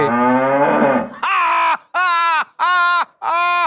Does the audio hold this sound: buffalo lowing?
yes